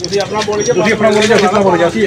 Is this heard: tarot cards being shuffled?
no